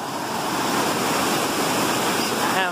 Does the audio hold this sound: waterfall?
yes